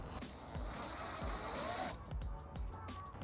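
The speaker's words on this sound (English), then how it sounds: "we're going to use a 3/16 drill bit to drill that out" A power drill with a 3/16 bit whirs at close range for a couple of seconds, drilling holes in a 2014 Fiat 500c bumper, then stops, followed by scattered clicks and handling noises of tools.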